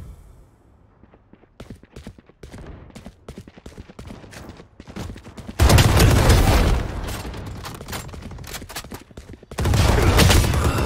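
Gunfire in an online shooter game: scattered light clicks and shots at first, then two loud, dense bursts of rapid automatic fire close by.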